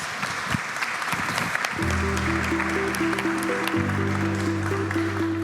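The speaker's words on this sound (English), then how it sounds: "Let's give them a warm round of applause." An audience at the OPEC Fund Development Forum 2024 applauds its panelists with a dense, steady wash of clapping that runs the whole way, while sustained music swells in beneath it partway through.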